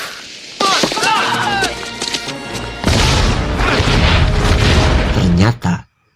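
A cartoon blast from a thrown stick of dynamite, rendered as a loud booming crash with a heavy low rumble that runs for several seconds and then cuts off, with voices talking before and through it.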